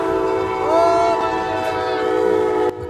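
A train sounds a long sustained horn on railway tracks near a car stuck on the crossing, loud and close, with rumble beneath, cutting off abruptly near the end.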